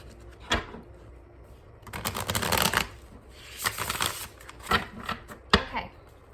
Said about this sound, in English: give one more quick shuffle here.